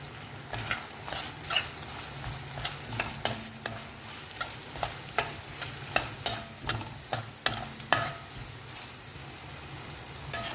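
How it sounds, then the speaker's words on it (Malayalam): Onions and tomatoes sautéing in butter, with a steady, close sizzle and a regular run of quick scraping stirs against the pan, about one every half second, and no talk. "ബട്ടറിലേക്ക് നമ്മൾ കുറച്ച് ബട്ടറും കൂടി ചേർത്ത് ഉള്ളിയും തക്കാളി വഴറ്റിയെടുക്കുന്നുണ്ട്"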